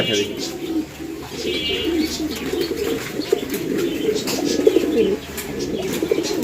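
Pigeons cooing in soft, repeated low calls under steady background noise, with some chirps mixed in throughout.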